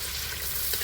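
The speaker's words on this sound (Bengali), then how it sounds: "কড়া পিকনিক চিকেন কষাবে এখন" Chicken frying in hot oil in a pot for a picnic gives a steady, close sizzle with stirring noise, brief and continuous, without speech.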